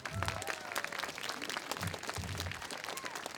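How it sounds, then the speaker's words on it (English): Audience applause at a veterans event, a steady wash of clapping with some low voices and murmurs mixed in, moderately distant and fairly soft. "Let's give her a big round of applause"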